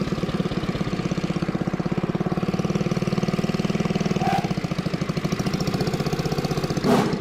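A homemade tractor motorcycle's engine chugs steadily at close range with an even, rapid knocking beat as the clutch is let out, and a brief sharp sound cuts in near the end.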